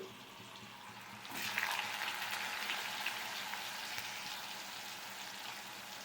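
Whole cumin, dried red chilli, bay leaf and chopped potato hit hot oil in a pan, a low hiss jumping into a loud, steady crackling sizzle that carries on evenly without talk.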